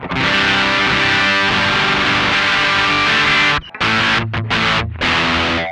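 An electric guitar played through a BOSS DS-1 Distortion pedal gives a loud, thick, sustained distorted tone, then breaks into short chopped strums with brief gaps of silence near the end.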